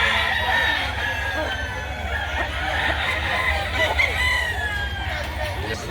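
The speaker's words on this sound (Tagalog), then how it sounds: "ito yung mga manok dito na mapagpipilian oh" Many roosters crow and cluck in an open gamecock market in Lipa City, Batangas, overlapping calls rising steadily over a constant crowd murmur, with people talking nearby.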